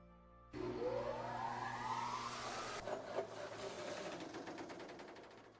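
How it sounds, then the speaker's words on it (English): A faulty motor in a video game starts up abruptly and runs with a rising whine, then settles into a rough, rattling, uneven drone with pulsing knocks, moderately loud and alone. "Sounds like something is wrong with the motor."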